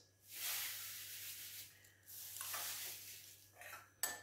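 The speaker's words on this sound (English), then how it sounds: "You give it a good mix." Spanish bread ingredients, including white sugar, are stirred in a bowl: several bursts of scraping and swishing with short pauses between them and a sharp clink at the end, fairly quiet and with no voices.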